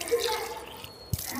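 Water drips and splashes faintly from face and beard during wudu washing, a few soft droplets with one clearer splash near the end.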